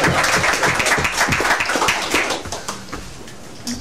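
Applause breaks out at a board meeting, a dense burst of clapping from several people in a room that fades over a few seconds.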